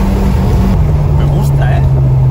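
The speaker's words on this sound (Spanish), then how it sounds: "¿Ves cómo actúan los dos turbos?" Twin-turbo Mazda RX7 FD engine under way, a steady droning rotary hum with a rising tone as the turbos spool, loud from inside the car.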